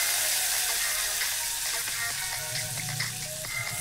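Tamarind juice pours into a hot pan and sizzles steadily at close range, a dense, bubbling fry that holds through the clip, with faint clinks and no voices.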